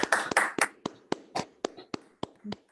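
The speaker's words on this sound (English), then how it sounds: "let's have a round of applause for yourselves, for everyone, this wonderful group of people" A small group gives a round of applause at an art event, heard as a short burst of clapping that thins into about a dozen separate, evenly spaced claps.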